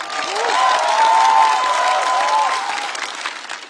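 A studio audience at a Chinese roast comedy show gives a singer a round of applause, steady clapping with some cheering that swells and then fades over a few seconds.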